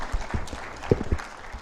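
Audience at a healthcare quality improvement conference claps in a short, scattered burst, moderately distant and thinning out over under two seconds.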